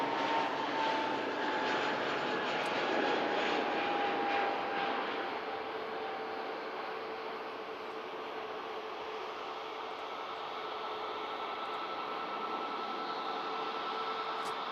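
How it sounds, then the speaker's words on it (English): A Ryanair Boeing 737 MAX 8200 taxiing out at Manchester Airport: a sustained jet engine hum with a thin tonal whine that drops in pitch midway, fairly loud and steady throughout. "Another Ryanair on a taxi out"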